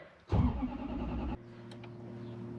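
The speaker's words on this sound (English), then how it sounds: "This is the first cold start of the day." A supercharged Toyota Prado with an M90 supercharger on its first cold start of the day: a short crank catches into a loud roar, then drops to a steady lower idle.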